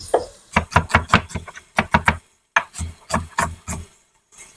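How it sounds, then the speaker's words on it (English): A knife chops food on a cutting board in a kitchen during the making of Mexican rice and bean soup with beef, with rapid rhythmic knocks in two runs separated by a brief pause, close and clear. "I know you can't totally see me chopping over here."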